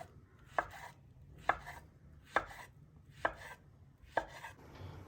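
A knife cuts a banana into pieces on a board, five crisp separate chops at a slow, even pace, close and alone with no talk.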